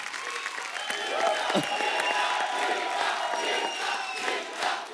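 A television comedy studio audience applauds and cheers loudly for a singer's entrance, a dense steady roar of clapping with whoops and shouts throughout.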